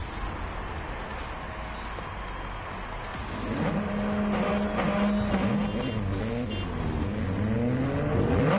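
Suzuki Super Carry race cars launch off the start in Gran Turismo 7 on Blue Moon Infield B, engines rising from a steady idle into rising, overlapping revs with tire squeal, loud and close.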